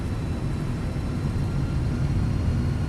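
A PW-powered TFDI MD-11F in Microsoft Flight Simulator 2024 touches down with reverse thrust engaged. A loud, steady, broadband engine roar fills the whole stretch with no breaks.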